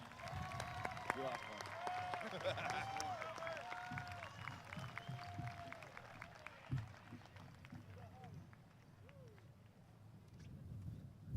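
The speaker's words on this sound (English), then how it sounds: "Please give this tremendous group a round of applause." Graduating high school students receive a round of applause at a commencement ceremony, a distant crowd clapping under a speaker's voice in a large hall.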